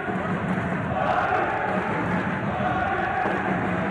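A crowd at a welterweight Olympic qualifying boxing bout, cheering and shouting in a steady, reverberant roar that rises briefly in the middle, with a commentator's voice faintly under it.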